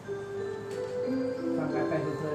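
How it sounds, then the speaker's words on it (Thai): A clock ticks faintly and steadily in the background of a room, partly covered by other low sounds and tones. "ขออภัย FC นะครับเสียงนาฬิกานะครับ"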